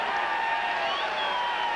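A stadium crowd cheers for the Louisville side at a 1994 Memphis versus Louisville college football game, a steady, dense roar that holds at an even level throughout with no clear breaks.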